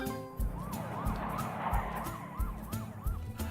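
In the Two Point Hospital video game, an ambulance siren gives a repeated, warbling rising-and-falling wail over low, thumping background sounds, moderately loud and with no speech.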